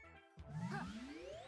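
Frog golf shot in the video game Ribbit King, a whooshing swish with a rising tone and light chime-like glints, loud and alone after a brief silence.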